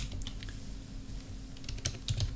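Keystrokes on a computer keyboard, a brisk run of light clicking taps at close range with a busier burst near the end, over a low steady hum with no talking.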